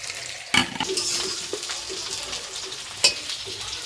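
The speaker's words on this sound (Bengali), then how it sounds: "এখানে আলু পেঁয়াজ টেয়াজ এগুলো ভাজাভাজি করে মাংসটা এখন ছেড়ে দেবো।" Marinated meat goes into a pan of frying potatoes and onions, and a steady close sizzle runs throughout, broken by a couple of sharp clanks and the scrape of stirring, with no talking.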